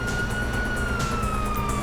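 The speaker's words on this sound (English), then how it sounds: "you hear that? Sirens!" Police car sirens wail in a Grand Theft Auto V game scene played on PS5, a steady rising and falling tone held loud over a dense rumbling background, with no talk.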